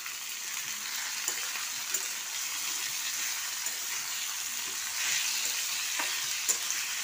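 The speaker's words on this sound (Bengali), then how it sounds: "এটাকে ভালোভাবে নেড়ে নিলাম" Bottle gourd and potato pieces sizzle steadily in a pan with fried garlic, with a continuous loud fry hiss and soft scraping stirs under it, plus a few light clinks.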